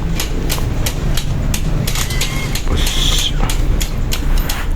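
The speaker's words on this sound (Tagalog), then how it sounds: "Gamit lang tayo ng impact. Yung tatlong tornilyo lang yan." An impact wrench removes the screws of a leaking shock absorber on a Rider 150 motorcycle, giving loud, close, rapid rattling bursts over a steady hum in a workshop, with sharp metallic clanks between them.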